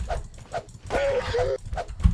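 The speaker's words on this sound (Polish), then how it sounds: "Jakieś zombie psy." Zombie dogs in the video game Grey bark and yelp in quick, repeated bursts, with a longer snarling cry in the middle and thumping impacts beneath.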